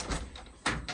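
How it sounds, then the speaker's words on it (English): A split door on a 2022 Great Aussie Xplora 19'6 off-road caravan opens or closes, with a soft rattling movement and then a firmer clunk of the panel meeting its frame, heard close and fairly quiet. "Split door."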